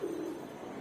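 Pigeons in a home loft cooing, a low steady murmur close by with a stronger coo at the start, no voices.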